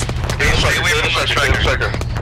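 Incoming rounds in the military shooter ArmA 3, a quick series of sharp gunshot cracks and thumps landing close and loud while a voice speaks over them.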